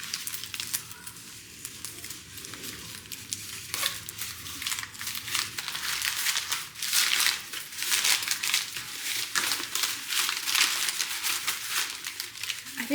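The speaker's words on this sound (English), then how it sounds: "I'm also out of like big masking tape, so I have to use this little Scotch tape" Small roll of Scotch tape handled, pulled and torn during Christmas crafting at home, giving continuous close crinkling and crackling with louder rustling bursts partway through, no talking.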